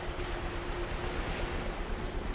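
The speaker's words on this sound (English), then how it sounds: "Nope, definitely rapids." Rushing river rapids in the video game Among the Sleep, a steady loud broadband roar of churning water that holds constant throughout, with no voices over it.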